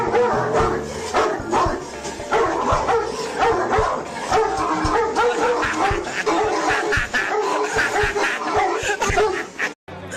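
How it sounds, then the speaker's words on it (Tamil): A dog shut inside a cage barks over and over in quick, agitated bursts, close and loud for the whole ten seconds, with people talking underneath. "கூண்டுக்குள்ள இருந்த நாய் இவரை பார்த்து தொடர்ந்து குலைச்சிருக்கு"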